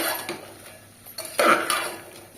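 A spoon scrapes and clinks against a pot while chopped vegetables and soya chunks are stirred, a few close, distinct metallic strokes with quiet pauses between.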